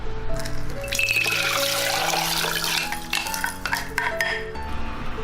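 Soaked beans with their reddish soaking water are poured from a bowl into a ceramic stew pot, giving a running liquid splash mixed with clinks of beans and dish against pot, fairly close and steady, with no talking.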